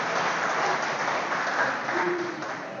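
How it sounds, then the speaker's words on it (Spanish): A church congregation applauds, steady broadband clapping from many hands at moderate distance, fairly soft and even, with faint voices beneath it. "un aplauso al Señor por eso"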